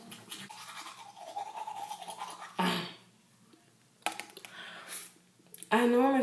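Toothbrush scrubbing teeth at home in the morning, a close, bristly scratching in bursts that stop and restart, with a few brief louder noises and household sounds between strokes.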